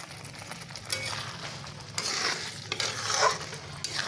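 Butter sizzling in a pan of cooking palak paneer, a continuous crackling fry with stirring scrapes and light utensil clinks that swell and ease.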